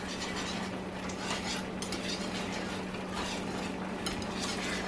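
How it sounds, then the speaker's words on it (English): A creamy sauce is whisked in a pot, giving a continuous run of quick, rhythmic scraping and swishing strokes over a low steady hum, with no voices. "We're gonna whisk this in."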